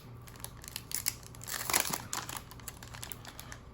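A plastic bag holding a passport-size paper planner crinkles and rustles up close as it is handled and opened, with soft irregular crackles and one louder crumpling burst in the middle.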